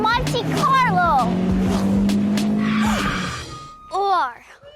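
Cartoon-style race car sound effects with rising and falling engine whines and tire squeals at the start and again near the end, loud and close, with children's voices speaking over them.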